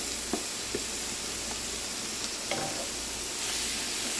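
Diced Roma tomatoes stirred into Hatch green chile sauce cooking in a pan, giving a broad, steady hissing sizzle with a few soft stirring scrapes, close and even, with no talking.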